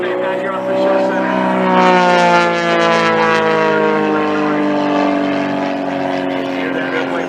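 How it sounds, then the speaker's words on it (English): Aerobatic airplane at an air show in Coshocton, Ohio, engine howling at full power: a loud, sustained droning roar with a gliding pitch, heard continuously throughout. "Hear that airplane really howl as he's got it wound up tight."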